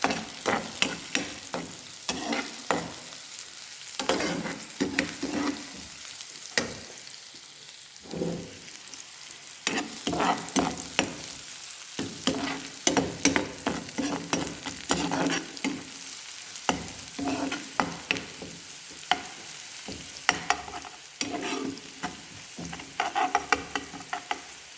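Garlic and green chili fry in warm oil with a steady close crackle and sizzle. Spoon-stirring clatter and frequent sharp pops run through it, and no one talks.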